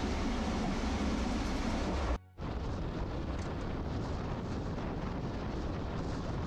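A passenger train heading toward Santahar station through rice fields gives a loud, continuous rolling rumble close by, dropping out for a split second before carrying on steadily.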